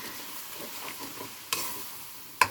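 Laing, taro leaves cooked in coconut milk, stirred in a pan over low heat as it begins to catch and scorch, with a soft continuous sizzle, light scraping and two sharper clinks of the utensil against the pan.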